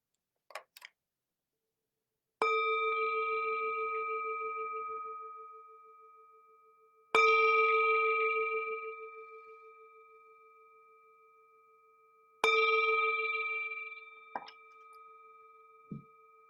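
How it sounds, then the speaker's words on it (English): A meditation bell is struck three times at slow, even intervals, each strike ringing out clearly and decaying into a long sustained hum in a quiet room, with a faint small tap near the start and end. "The sound of this beautiful bell returns us to our true home."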